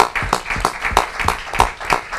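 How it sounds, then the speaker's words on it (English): A round of applause at a township council meeting, a short burst of rhythmic group clapping, close and fairly loud, with about six evenly spaced claps. "So let's give these girls a round of applause."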